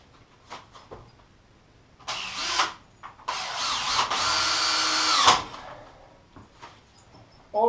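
Power drill driving screws into the timber sections of a 12 m 4v geodesic dome, with two sustained whirring bursts near the middle separated by short pauses and some quieter handling knocks before and after.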